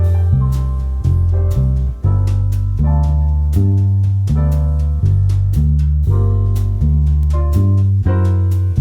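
Bossa nova bass line played in repeating groups of three alongside a full backing track, the bass notes steady and prominent throughout in a relaxed, looping rhythm.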